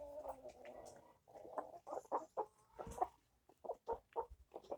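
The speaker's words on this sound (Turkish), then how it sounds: "bu tavukların da böyle ses çıkıyor. Tık diyor." Several chickens cluck in short, irregular bursts close to the microphone, quiet overall with brief pauses between the calls.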